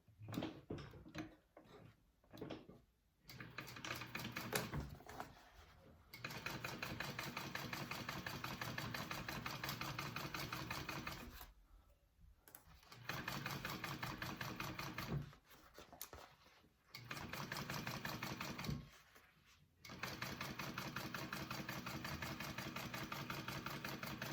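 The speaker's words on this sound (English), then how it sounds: "I'm going to sew along the other side" A sewing machine stitching the seam of a bag in long runs of steady, rapid mechanical whirring, close and fairly loud, stopping in several short pauses and restarting each time.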